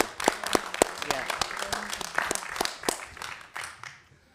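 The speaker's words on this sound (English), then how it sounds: "Will you join me with a round of applause?" A council meeting gives a short round of applause for village workers, a handful of distinct close claps building into a patter, then thinning out and fading near the end, with voices mixed in.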